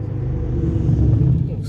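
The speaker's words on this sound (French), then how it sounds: "on doit tout entendre, les voitures, les motos" Cars and motorbikes pass outside an open window, a steady low road rumble with a slight swell as a vehicle goes by, heard briefly and at a moderate distance.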